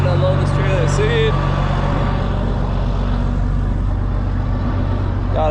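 A farm vehicle idles and rumbles steadily at close range as it backs a trailer of seed potatoes into a potato field, with a constant low engine drone throughout.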